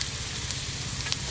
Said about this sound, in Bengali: এবার একটু জিরে আর তেজপাতা দেবো আর পেঁয়াজ দেবো